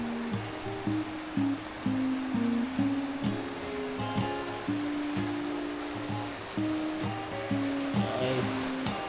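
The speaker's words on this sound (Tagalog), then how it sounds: "Malakas yung agos pero mababaw lang." A shallow but strong river rushes and burbles over shallow rocks at a campsite in Tanay, in a continuous wash of water noise, with a low, uneven rumble running underneath.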